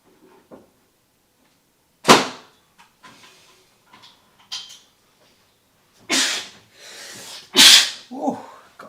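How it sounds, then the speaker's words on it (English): A loud, sharp sneeze bursts out once near the start, followed later by two more sneeze-like bursts and some breathing and faint rustling in an otherwise quiet room. "got a sneeze going on"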